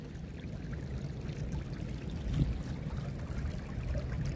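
Running water flows steadily through a yard drain during flash flooding, a continuous close pouring and trickling rush with no talk.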